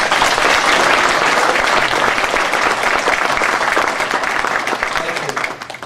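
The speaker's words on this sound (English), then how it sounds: "can we give them a round of applause?" Loud, dense applause from an audience at a keynote address, many hands clapping steadily and close, slowly tapering off toward the end.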